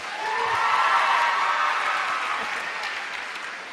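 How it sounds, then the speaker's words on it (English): An indoor audience at a sales seminar applauding, a dense burst of clapping that swells quickly, holds, then gradually fades. "And give them another round of applause."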